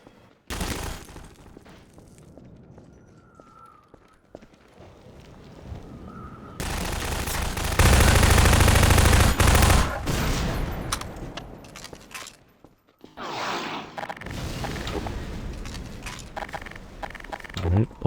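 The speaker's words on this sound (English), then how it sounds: "Hey, the SMG." Combine soldiers fire on the player in Half-Life 2: Lost Coast, with bursts of rapid SMG gunfire and a long, loud stretch of sustained automatic fire that breaks off and returns. Someone talks over parts of it.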